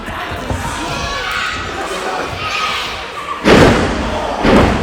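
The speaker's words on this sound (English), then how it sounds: "That destroyer all the way from Canada should have put this match away." At a live professional wrestling show in Aylesbury, a wrestler is driven onto the ring mat by a destroyer move, landing with loud heavy thuds near the end over a rumbling crowd and a commentator's voice.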